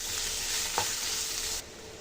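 Radish chutney mixture stirred in a hot pan, a soft steady sizzle with one brief scrape of the spoon, close and continuous before it drops off near the end.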